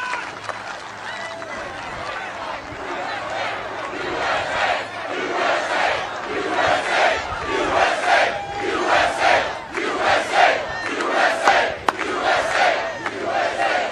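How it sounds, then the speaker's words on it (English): A large political rally crowd roars with sustained cheering and rhythmic shouting that builds over time, loud and continuous, with a voice faintly beneath. "What an incredible crowd."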